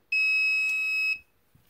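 A single sustained, high-pitched electronic beep from a security alarm's entry delay, lasting about a second, loud and close, then quiet.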